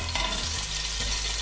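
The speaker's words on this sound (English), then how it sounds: "Mustard seeds are sizzling" Mustard seeds sizzle in a hot pan for a Punjabi curry, giving a loud, continuous crackling fry that is close and carries no talk.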